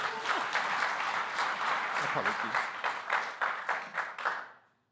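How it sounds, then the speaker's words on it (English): Panel audience at a green hydrogen conference applauding, a dense burst of clapping that thins into scattered individual claps and fades out, with a brief spoken word over it. "I forgot a big applause for my podium."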